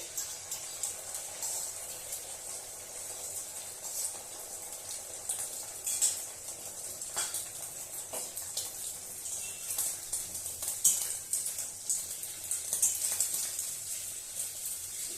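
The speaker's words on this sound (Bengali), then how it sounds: "এবার আমি এই যে ফেটিয়ে রাখা ডিমটা দিয়ে দিচ্ছি তেল গরম হয়ে গেছে" Beaten egg poured into hot mustard oil in a pan for an omelette gives a steady, faint sizzling hiss that holds for the whole stretch, with small crackles and no talking.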